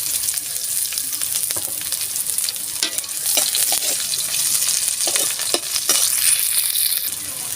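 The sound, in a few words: garlic, ginger and onion frying in a pan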